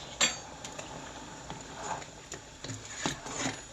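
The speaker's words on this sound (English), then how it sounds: "And then stir it up." A spoon stirs beef barley soup with diced vegetables and parsley in a pot, giving light clinks and scrapes against the metal in an irregular rhythm.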